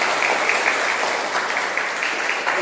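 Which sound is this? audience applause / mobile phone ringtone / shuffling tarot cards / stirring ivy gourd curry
audience applause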